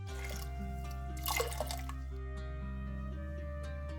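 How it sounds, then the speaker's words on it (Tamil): Water, including the rice-soaking water, is poured into a pressure cooker for Mappillai samba rice porridge, giving a steady close splashing and trickling with a brief louder gush midway over a constant low hum. "இது அரிசி ஊற வச்ச தண்ணியும் சேர்த்து இது கூட நான் ஊற்றிக்கிறேன்"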